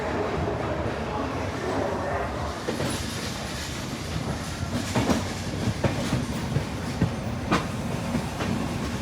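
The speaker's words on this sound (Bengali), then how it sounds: "শিডিউল টাইমের থেকে আমাদের ট্রেন 8 মিনিট ডিলেতে ছাড়লো" Howrah LalKuan Express train pulling out of the station, a steady rolling rumble heard from inside the coach with rhythmic wheel clicks and occasional clanks growing more frequent.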